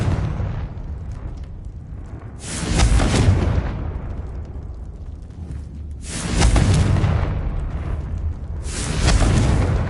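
Repeated blasting-spell explosions in the Hogwarts Legacy video game, three loud booming bursts with rumbling tails spaced a few seconds apart, with no talk over them.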